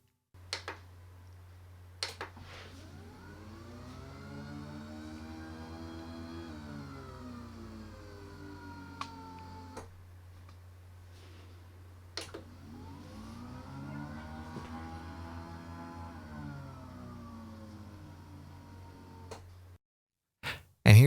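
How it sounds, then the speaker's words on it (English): An electric Flexispot sit-stand desk motor runs steadily for about eighteen seconds, a low hum with a whine that rises and falls as the desk travels in two strokes, ending with a few clunks and clicks. "it's not too loud in my ears, but has a cool motor sound"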